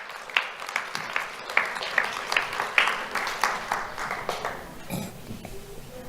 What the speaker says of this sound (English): Let's have a round of applause for Jace.